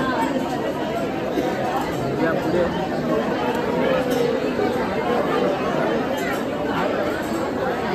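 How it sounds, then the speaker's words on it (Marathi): A dense crowd chatters at a busy temple on a crowded Sunday, steady murmuring babble filling the space throughout, with a voice speaking briefly among the hubbub. "साखर संडे म्हणून गर्दी खूप आहे"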